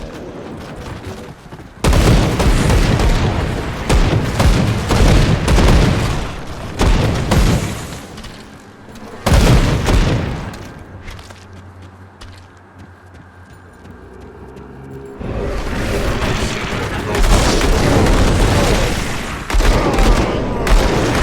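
Dense rifle fire and booming explosions from combat in the Grim Dawn video game, loud and sustained bursts that briefly drop to a quieter rumbling lull and then surge again.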